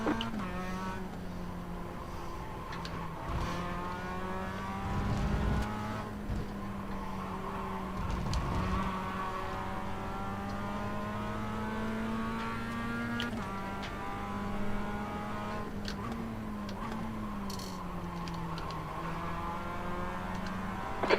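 A faster race car closes in during a production car endurance race in a racing game, its engine droning steadily and rising and shifting in pitch over the constant roar of the player's own car, with occasional tire scrubs.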